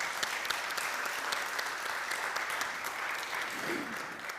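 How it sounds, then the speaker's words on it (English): Audience applause for the singers at a music seminar, an even, continuous patter of many hands, fairly quiet and distant, with a brief voice near the end. "Can we get a round of applause for the incredible singers?"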